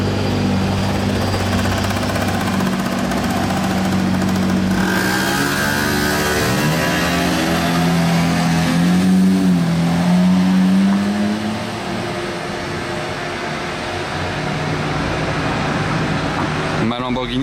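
A Lamborghini Reventon Roadster with a Murcielago Super Veloce engine drives on a Monaco street, its engine note rising and falling in loud, clear sweeps, with people talking over it.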